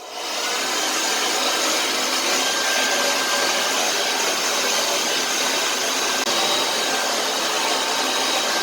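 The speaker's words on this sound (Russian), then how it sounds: "Ну, а сейчас фен." A hair dryer blows steadily and loudly for the whole stretch, a continuous broadband whoosh with a faint whine running through it and no voices.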